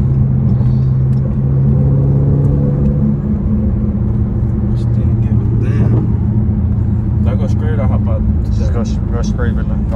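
A Dodge SRT 392 engine rumbles loudly from inside the car, a deep, steady drone that holds throughout while people talk over it.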